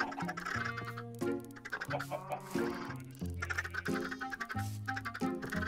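Chickens in the video game Minecraft cluck in a busy, repeated stream of short calls layered over music, moderately loud and continuous, with no talking.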